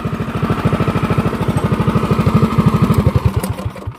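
Lightweight go-kart powered by a Predator 212 engine running nearby, a loud, choppy single-cylinder putter with a fast regular beat that fades near the end, no one talking.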